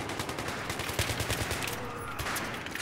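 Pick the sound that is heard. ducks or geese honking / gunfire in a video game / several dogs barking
gunfire in a video game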